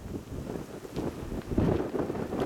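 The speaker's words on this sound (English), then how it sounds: "That wind blowing me all over the place." Steady gusty wind buffeting the microphone outdoors beside a railway line in Montour, Iowa, a continuous loud rumble with no talk.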